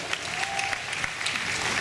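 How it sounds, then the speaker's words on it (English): A crowd claps steadily and warmly, a brief burst of dense applause filling the room. "Give them a big round of applause, they do a great job here."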